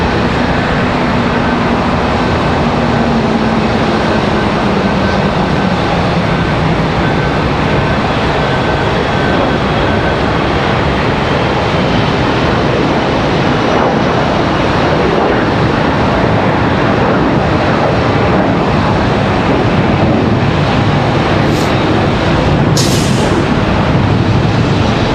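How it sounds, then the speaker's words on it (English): An Embraer ERJ regional jet rumbles and roars at Charlotte Douglas International Airport, a loud, continuous broadband engine noise with a faint falling whine, heard close and steady throughout. "Got an ERJ on the move."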